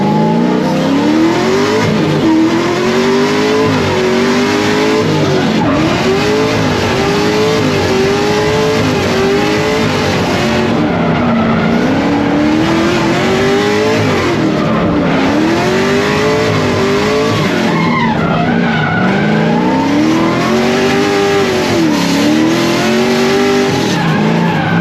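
Race car drifting at a Klutch Kickers event: a loud, sustained engine howl that rises and falls with revving, layered with continuous tire squeal and skidding, close and unbroken throughout.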